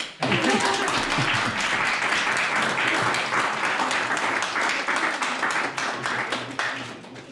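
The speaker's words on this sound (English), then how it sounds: "Yes, you can applaud, no problem." An audience applauds after a talk on the future of farming and food and EU lessons for Ukraine, a steady roomful of clapping that holds for several seconds before thinning near the end.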